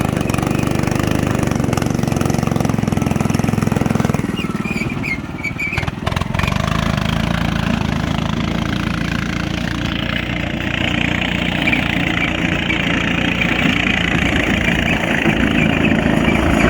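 A custom-built 4x4 mini monster truck's small engine idles steadily and close by, a loud continuous drone that dips and shifts in pitch briefly partway through before settling back into an even rumble.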